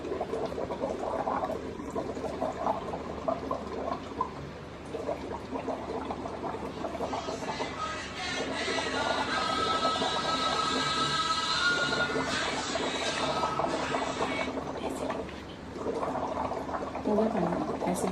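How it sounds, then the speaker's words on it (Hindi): Bubbling gurgle of someone blowing through pipes into two glasses of water to test a reaction with CO2, a steady burbling stream that runs under intermittent talk. "मैं इन दोनों में फूंक मारूंगा ताकि CO2 से इनका रिएक्शन अपन देख सकें"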